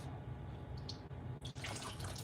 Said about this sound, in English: Just a little bit of water. See if I can get that gel off.